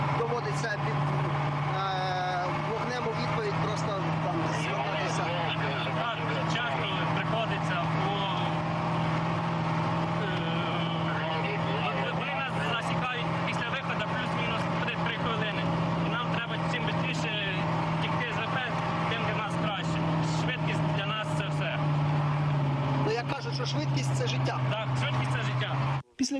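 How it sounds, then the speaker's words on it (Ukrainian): Grad rocket launcher truck pulling away from its firing position, a steady loud engine drone with a low hum running throughout, mechanical rattles and clicks on top, and a sharp thump at the very end. "Після цього машина з максимальною швидкістю їде з місця стрільби"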